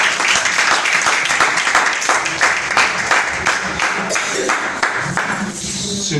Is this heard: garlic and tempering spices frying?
no